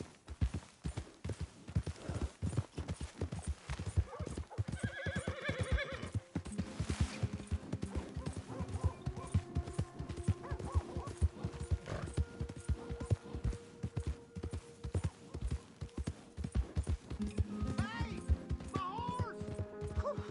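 Horse hooves clip-clop in a steady, close rhythm in Red Dead Redemption 2, with occasional whinnies and game sounds layered over the galloping, and talk appearing briefly.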